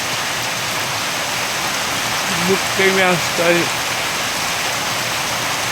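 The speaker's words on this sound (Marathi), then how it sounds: "जोरदार पाऊस" Steady, dense hiss of heavy rain pouring down throughout, with someone speaking briefly over it midway.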